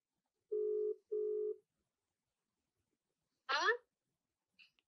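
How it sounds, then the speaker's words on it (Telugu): A telephone gives two long, even ringback tones in a row, then falls silent, followed by a brief burst of a voice on the line and a faint blip. "నెంబర్ ఒకసారి చెప్పండి, తనకు కాల్ చేసి అసలు ఏంటి తన ఒపీనియన్ అనేది కనుక్కుందాం"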